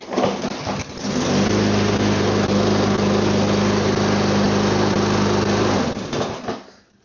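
A lawn mower engine catches after a brief rumble and runs at a loud, steady drone for several seconds before quickly dying away.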